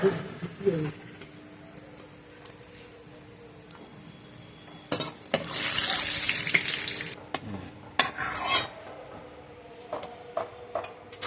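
Onions frying in oil until reddish for beresta, with a steady broadband sizzle that swells loudly in the middle, plus scattered clinks and stirring scrapes of a spatula against the pan.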